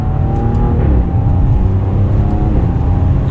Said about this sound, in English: You can hear that sports exhaust just a little bit.